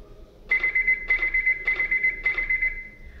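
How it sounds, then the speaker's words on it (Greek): Alarm tone from an Arduino motion-detection setup played through computer speakers: four bursts of a steady high beeping pattern, each about half a second long with short gaps, clear and alone. "Μόλις εντοπίσει κίνηση, ακούγεται ήχος συναγερμού από τα ηχεία του υπολογιστή."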